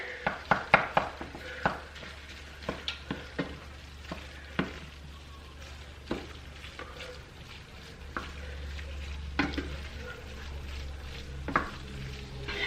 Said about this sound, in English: So now we're going to give all of this a stir.